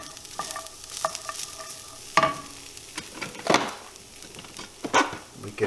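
Vegan taco mystery meat fries in a pan over medium-low heat, a low sizzle punctuated by uneven scraping stirs and spoon knocks against the pan, close and without speech.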